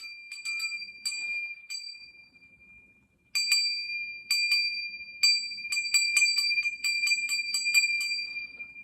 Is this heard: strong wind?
no